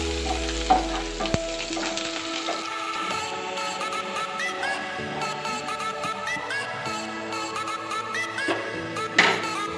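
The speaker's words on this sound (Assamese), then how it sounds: "এতিয়া মই দালি চম্ভাৰ দিম। ইয়াতে মই পাঁচফোৰণ আৰু জলকীয়া এটা দিছোঁ, শুকান জলকীয়া আৰু অলপমান পিঁয়াজ দিম।" Panch phoron, dried chilli and onion sizzling in hot oil to temper dal for an Assamese meal, a steady close crackle with sharp spits and pops throughout, growing busier after the onion goes in, with no talk.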